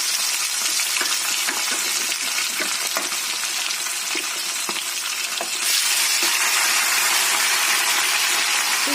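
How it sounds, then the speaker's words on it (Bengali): A marinated whole fish fries in a pan of hot oil, giving a loud, dense, continuous sizzle close by, with small crackles and pops scattered through it and the hiss swelling slightly toward the end. "মাছটা মাখিয়ে যেটা রেখেছিলাম এটা এখন ভাজা বসিয়ে দিচ্ছি এবং গোটা গোটাই ভাজা হবে"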